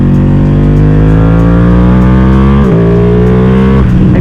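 A flashed Ducati Panigale V2 motorcycle engine on a dyno, loud and close, holding a high, steady rev that climbs gradually, with a brief dip and a throttle blip near the end.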